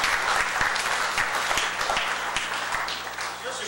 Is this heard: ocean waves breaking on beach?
no